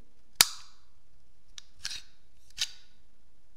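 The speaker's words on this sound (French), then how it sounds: "le bouton de déverrouillage de chargeur est ici" A Beretta 70 pistol chambered in 7.65 mm (.32 ACP) gives a sharp metallic click as its magazine release is pressed, followed by two softer clicks as the magazine is removed, all close and isolated in a quiet room.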